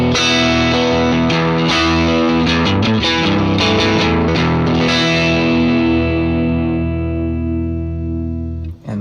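Electric guitar played through a Vox AC15 amp model on a UAFX Ruby pedal, a loud, sustained distorted chordal passage with dense harmonics and a few strummed accents, fading slightly at the end.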